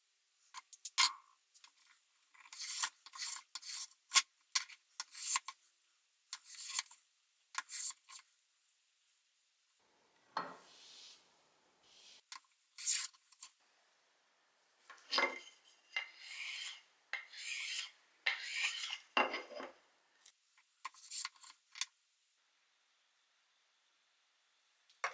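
Japanese hand plane taking shavings off a wooden board, a series of quiet close rasping swishes in uneven strokes separated by pauses.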